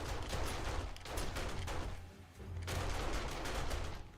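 Shotguns boom in dense, rapid volleys during a horde-night fight in the survival game 7 Days to Die, with a loud continuous din that dips briefly before building back up.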